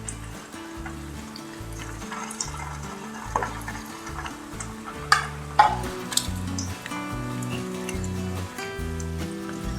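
Homemade paneer manchurian balls deep-frying in hot oil over medium heat, a continuous bubbling sizzle with scattered crackles and pops, alongside a low rhythmic music bed.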